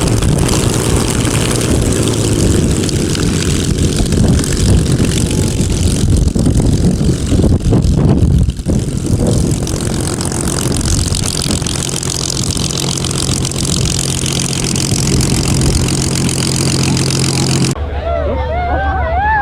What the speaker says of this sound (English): this legendary Spitfire shoots flames from its exhaust during startup